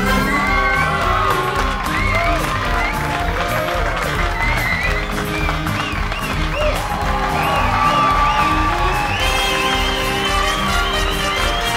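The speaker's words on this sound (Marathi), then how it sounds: "काय टाळ्या वाजवण्यात" A studio audience at a Marathi talk show claps and cheers in a steady, loud wash of applause with whoops and shouts, while music plays underneath.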